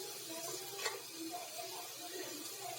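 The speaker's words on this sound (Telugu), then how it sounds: "గోల్డ్ కలర్ వచ్చేదాకా ఫ్రై చేయాలండి." Sliced onions fry in a pan until golden, a steady soft sizzle with occasional light stirring scrapes, close and fairly quiet, with no talking.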